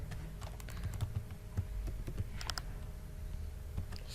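Rapid, uneven clicks of keys on a computer keyboard as a verification code is entered, close and fairly quiet, with no voices.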